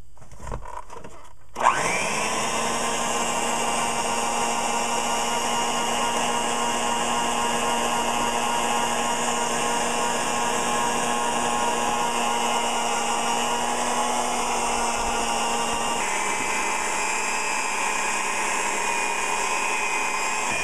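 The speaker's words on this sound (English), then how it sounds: "I like to beat the whole mixture on high for" An electric mixer whirs steadily on high speed while beating cheesecake batter of cream cheese and vanilla, starting abruptly with a loud, even motor drone that holds constant and drops slightly in pitch near the end.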